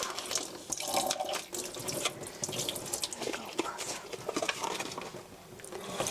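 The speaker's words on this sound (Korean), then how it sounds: "흐르는 물에" Running tap water pours over a block of tofu being rinsed in a kitchen sink, a steady close splashing stream with light patter throughout.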